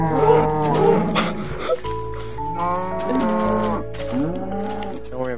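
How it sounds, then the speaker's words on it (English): Cows in the Minecraft video game moo several times in a row, loud and close, each call a drawn-out, tonal low bellow. "There's plenty of cows in this world."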